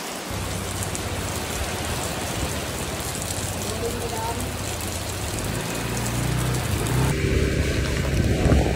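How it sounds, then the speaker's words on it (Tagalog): Heavy rain pours down in a dense, steady hiss that swells louder toward the end, with a low engine-like hum underneath, heard outdoors during a motorcycle ride. "Habang malakas ang ulan."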